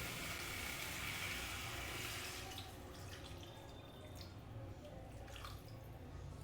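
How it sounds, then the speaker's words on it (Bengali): Water is poured into a pan of cooking green jackfruit and potato, giving a steady wet rushing that softens and trails off partway through, with no talking. "এবারে আমি এঁচড়ে পরিমাণ মতন জল দিয়ে দেবো"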